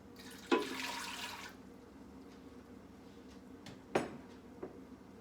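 Lukewarm water is poured into a breadmaker pan in one short splashing pour of about a second, followed by a couple of soft knocks and a quiet stretch with no talking.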